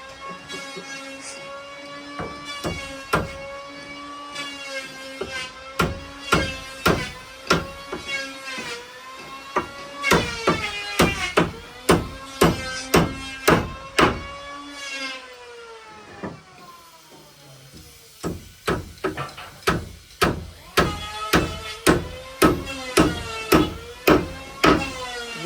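Hammers pound nails during house construction, with sharp repeated strikes coming in quick bursts and short pauses, loud and close, over a background of ringing tonal machine or tool noise.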